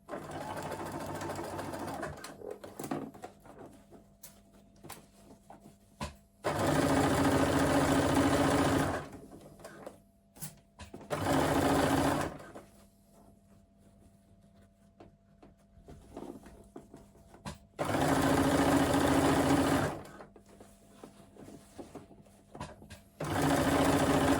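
A sewing machine stitches an adjustable strap for a crossbody bag, running in several loud sustained bursts separated by quieter pauses, close by and with no talking.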